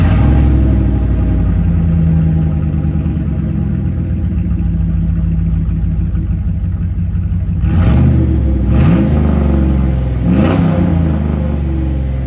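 A car engine with its exhaust cut off at the flex pipe drones loud and raspy at a steady idle, then revs up sharply twice near the end, harsh and close.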